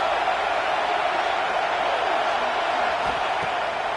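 Stadium crowd noise in an NCAA college football video game, a steady loud roar of cheering fans held for the whole stretch, with faint low thumps underneath.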